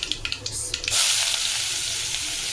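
Chopped onion hitting hot oil with mustard seeds in a pan: a few sharp popping crackles, then a sudden loud, steady hiss of sautéing that continues to the end.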